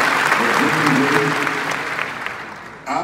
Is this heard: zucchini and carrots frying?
no